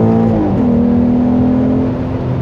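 A 2003 Alfa Romeo 156 GTA engine drones steadily and loudly up close, with an even, slightly shifting tone and no talk over it.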